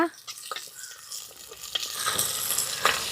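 Shallots and green chilies sautéing in a pan for Kerala sambar, with sharp scraping stirs and clinks over a rising oily sizzle, close by.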